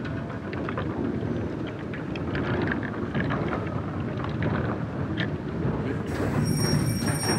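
Windmill machinery running with blades turning in wind at Bouhy in the Nièvre, giving a steady, loud rumbling and clattering drone that continues throughout, with a higher whine entering near the end.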